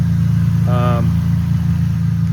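Turbocharged Nissan 350Z with an old, high-mileage boosted engine idles while warming up, a steady low rumble close by, with a brief voice heard over it.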